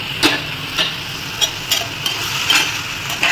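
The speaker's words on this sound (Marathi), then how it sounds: "फक्त ही याला थोडंसं फ्राय करणार, शिजवणार" Potatoes fry in a pan with a steady background sizzle, broken by regular scraping clicks of a spatula stirring them roughly every half second.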